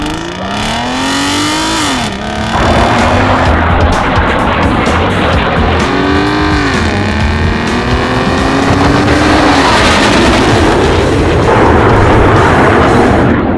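A 2005 Aston Martin DB9 engine roars and revs hard, pitch climbing and dropping through gear shifts, close and aggressive, with no voices.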